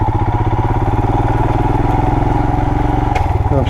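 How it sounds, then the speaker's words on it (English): A 2020 Royal Enfield Himalayan on knobby off-road tires chugs uphill in first gear on a dirt trail, its single-cylinder engine thumping in a steady, loud, close pulse throughout, with a brief clatter near the end. "I'm seriously just chugging up in first gear."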